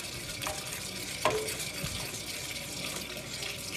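Steady scraping and stirring of a cornstarch-thickened sauce in a pan, a continuous soft wet swishing with one sharper knock near the middle, close and alone with no talk.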